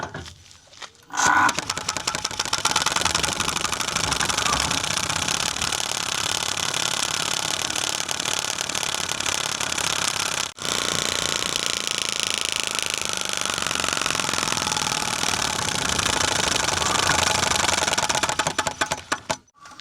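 A bicycle fitted with a silencer makes a continuous rattling, buzzing engine-like drone while ridden on a road, close and loud for nearly twenty seconds, with a brief dip midway, resembling a small motorbike.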